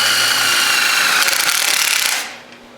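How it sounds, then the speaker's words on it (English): A power drill boring through sheet metal, a steady loud high whine for about two seconds that drops off as the bit breaks through and the motor winds down, close by. "I've got to put some holes in this metal that I cut yesterday"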